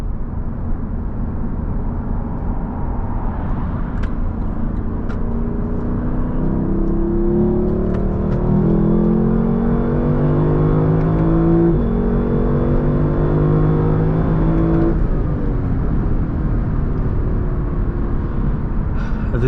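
A Lexus LC500 2020 with a 475 hp engine, heard from inside on a drive, revs and downshifts with rising and falling engine tones, a loud steady drone with layered harmonics and no talking.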